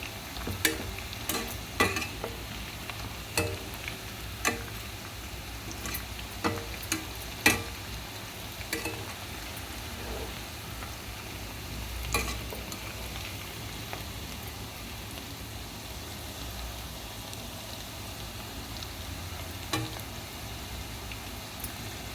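Capsicum fries in oil in a pan with a steady, hissing sizzle that runs throughout, broken by scattered sharp pops and utensil clicks, close by and with no voices.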